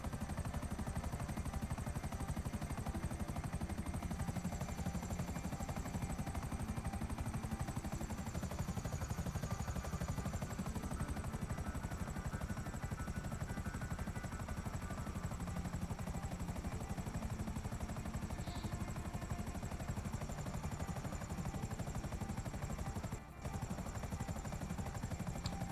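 An aircraft flying low over a shoreline in GTA V gives a steady, droning rotor and engine roar that holds constant throughout, with a faint whining tone above it and a brief dropout near the end.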